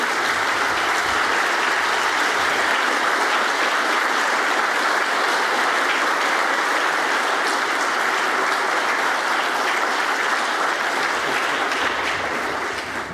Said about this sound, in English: your role as an audience is to applaud wildly